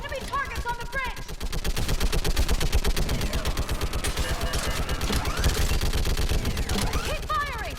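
Rapid automatic gunfire in the Mass Effect Legendary Edition video game, dense sustained bursts at close range with overlapping shots, and voices shouting over the combat.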